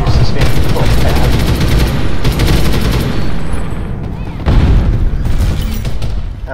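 Grenade blast and gunfire in a shooter game, loud continuous booming and rattling bursts of shots filling the whole stretch, with a renewed surge of heavy impacts near the end.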